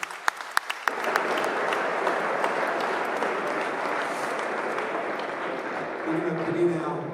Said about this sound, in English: Round of applause, please, for Anthony Crolla.